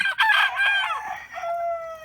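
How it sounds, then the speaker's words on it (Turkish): Small roosters crow loudly and close in a chicken coop, one long strained call trailing off into a thinner held note, with other fowl sounds mixed in. "İşte bu küçük horozları bu yüzden sevmiyorum."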